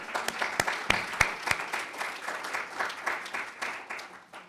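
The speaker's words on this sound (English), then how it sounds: "So one last round of applause for everybody." A gathering applauds everyone at the close of a program, with steady, fairly loud clapping from many hands, a few sharp individual claps standing out near the start before it gradually thins.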